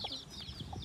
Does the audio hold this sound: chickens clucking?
yes